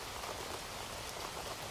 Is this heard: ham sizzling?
no